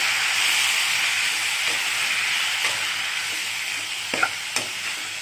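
Sorrel leaves with their stalks frying in hot tempering oil, a loud, steady, close sizzle and hiss with a few light stirring scrapes.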